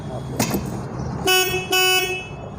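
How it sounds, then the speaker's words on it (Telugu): A Kubota 5502 55 hp tractor horn honks twice, two steady blaring toots about half a second each, with a low engine rumble in the background. "హార్న్,"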